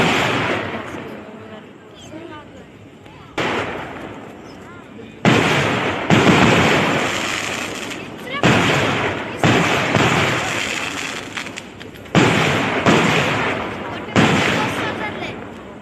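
Firecrackers burst one after another at a village fair before dawn, sharp loud cracks in irregular bursts with crackling tails, with people talking in the background.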